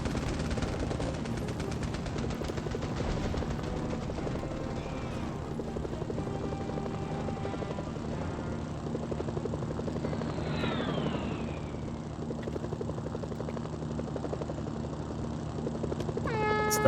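A helicopter flies in the video game Mercenaries: Playground of Destruction. The rotor and engine drone is steady and loud throughout, with scattered gunfire and other game effects layered over it.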